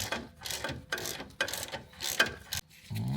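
Ratchet spanner tightening 13 mm nuts on a Range Rover Classic front shock absorber, a series of close, rapid clicking bursts with brief pauses between strokes.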